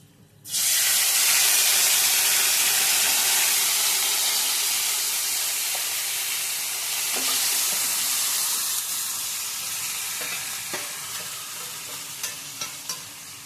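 A mixture poured into hot oil with Kashmiri chili powder in a pan, bursting into a loud, sudden sizzle that holds steady and slowly eases, with a few light stirring taps near the end.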